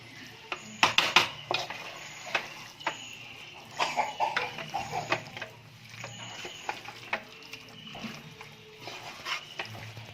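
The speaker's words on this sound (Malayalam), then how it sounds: "മസാല നന്നായിട്ട് ചിക്കനിലേക്ക് നന്നായിട്ട് യോജിപ്പിച്ച് കൊടുക്കണേ." A spoon stirring masala into chicken curry in a metal pan for a coconut fried chicken curry, with repeated scraping clinks and soft sizzling, close and moderately loud, with no talking.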